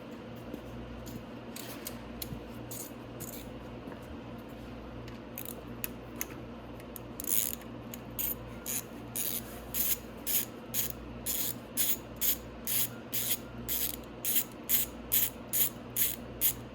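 An 8 mm wrench tightens the ground cable bolt on a Venom X22GT 250cc motorcycle, first sparse clicks, then a close, regular run of ratcheting strokes growing louder toward the end.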